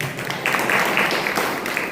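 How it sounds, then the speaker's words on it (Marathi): Audience applause at a cultural song program, a dense steady wash of many hands clapping, moderately loud and continuous, with no distinct voices standing out. "टाळ्या झाल्याच पाहिजे."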